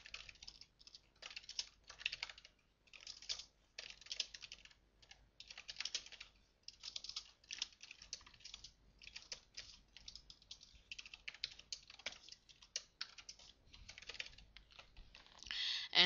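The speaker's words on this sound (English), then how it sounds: "we'll have to type in the basic things again, you know, the main method, the includes" Close, quiet typing on a computer keyboard while entering C++ code, an irregular stream of light key clicks in bursts with brief pauses.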